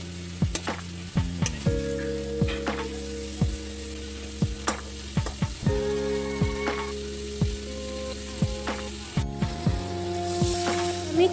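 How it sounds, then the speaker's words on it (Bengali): Fried rohu fish being stirred into spice paste over medium heat, with repeated scraping strokes of a spatula against the pan over a low sizzle, accompanied by a steady tonal hum. "এবার আগে থেকে ভেজে রাখা মাছগুলোকে দিয়ে আঁচটাকে মিডিয়াম রেখে মাছগুলোর সঙ্গে মশলাটাকে খুব ভালোভাবে মিশিয়ে নেব"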